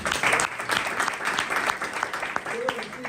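Audience applause at a church convention in Chhindwara, a dense wash of hand claps rising and falling steadily across the hall for about three seconds, with voices mixed in under the clapping.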